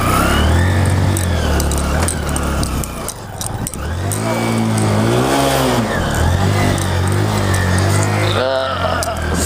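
A motorcycle engine revs hard on a rough trail, loud and close, its pitch rising and falling as the throttle is worked, with people talking over it.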